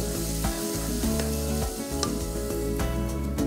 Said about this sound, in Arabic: مع الزيت البصل اللي تقلى باش نحطو البصل والثوم